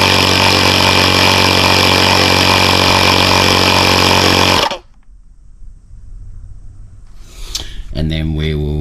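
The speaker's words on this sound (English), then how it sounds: "So we'll quickly just pump it back up." Tyre pump inflating a tyre gives a loud, steady mechanical drone for several seconds before cutting off abruptly, leaving quieter handling noises and a brief restart of sound near the end.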